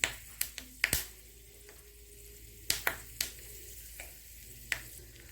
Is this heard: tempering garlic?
yes